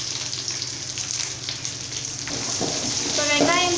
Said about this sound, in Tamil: சேர்த்துட்டு லேசாக இந்த மாதிரி வதக்கிக்கலாம்